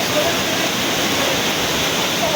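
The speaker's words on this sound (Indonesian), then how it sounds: "Jadi aku udah berani mendekat ke air terjun ya." The Curug Lawe waterfall near Ungaran roars as a loud, steady broadband rush of falling water, filling the whole clip without pause.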